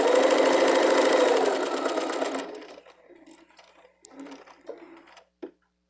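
A sewing machine stitching fabric for a small bag runs in a fast, steady whirring burst for about two seconds, then stops, followed by faint scattered handling clicks and taps nearby.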